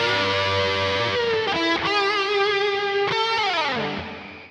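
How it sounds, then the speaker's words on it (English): An electric guitar played through heavy distortion rings out loud and alone, sustained fuzzy chords with a few slides and changes before the last one fades away. "We have distortion, which increases gain to produce that hard, fuzzy sound"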